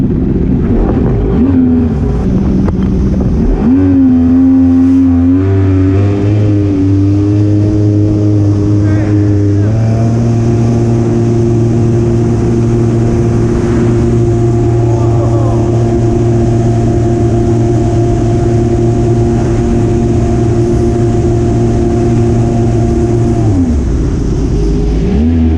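Two personal watercraft, a GP1200 two-stroke and an FXHO four-stroke, run on open water from about 35 mph, engines droning loudly with shifting pitch that climbs and holds steady before dropping off near the end.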